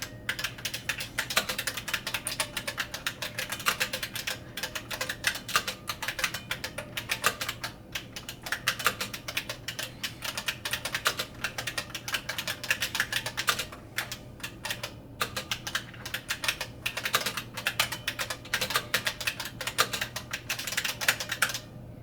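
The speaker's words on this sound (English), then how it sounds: "So how does this capacitive buckling spring keyboard sound? It is so awesome and clanky and raw." Steady, fast typing on a Model F F77 capacitive buckling spring keyboard with a heavy zinc case, each keystroke a sharp, clanky click in dense, continuous runs, close up and without talk.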